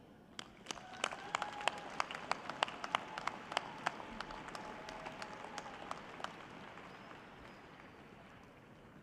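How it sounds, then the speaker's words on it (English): Sparse, distant applause at a winter commencement ceremony: scattered individual claps over faint room noise that thin out and fade after about six seconds. "Let's applaud what they've done"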